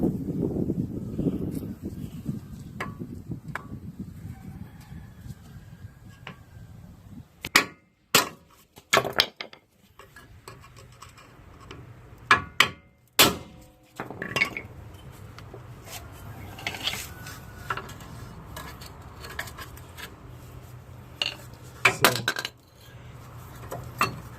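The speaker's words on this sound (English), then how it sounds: "give it a shock of impact with one of the best hammer on the market" Sharp metallic hammer blows ring out in irregular bursts, several strikes close together, striking a ball joint on a Nissan Xterra spindle, over a low mechanical hum and workshop clatter.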